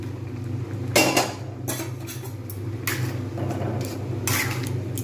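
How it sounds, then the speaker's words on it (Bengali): Fried egg being tipped from a utensil into a pan of egg tadka, a series of sharp metallic clanks and scrapes of spoon against cookware over a low steady background hum. "এবার ভাজা ডিমটা নিয়ে আমি এর মধ্যে পুরোটা ঢেলে দিলাম"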